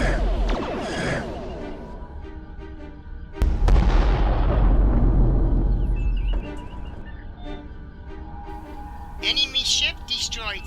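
Starship weapons fire in Fallout 4: booming blasts and crackling bursts, with one heavy hit standing out, followed by a dense rolling rumble that fades, while a voice speaks over the battle.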